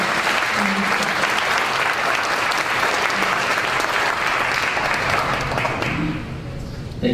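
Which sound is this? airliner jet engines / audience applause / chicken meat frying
audience applause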